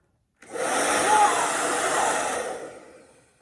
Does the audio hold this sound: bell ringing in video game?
no